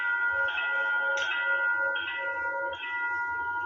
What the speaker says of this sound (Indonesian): suara genta lonceng perlintasan berbunyi.